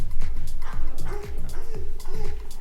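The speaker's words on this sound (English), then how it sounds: "That's my dog." A dog barks in a quick, repeated series of yips, close and loud throughout the short stretch.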